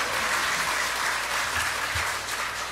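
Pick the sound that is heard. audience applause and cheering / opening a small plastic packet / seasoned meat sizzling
audience applause and cheering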